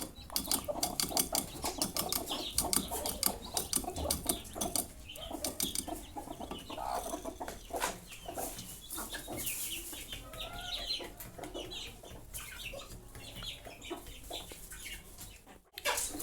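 Domestic hens with a brood of newly hatched chicks on a farm, giving soft repeated clucks mixed with busy high chick peeps, close and continuous throughout, with no talk.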